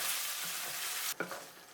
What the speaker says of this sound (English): Then add the sweet and sour sauce. Stir from time to time for 3 minutes.